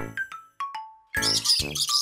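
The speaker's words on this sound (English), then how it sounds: "Parrot." Cartoon parrot in a children's colour-learning lesson gives a few short rising chirps, then a bright squawking call that fills the last second, loud and close.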